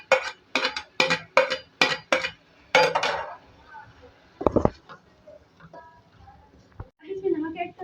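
Aloo sem, potatoes and beans with fried sev, being stirred in a karahi pan, a run of sharp rhythmic metal scrapes and clinks of a spoon against the pan, then a few scattered knocks, with a voice speaking over the sounds.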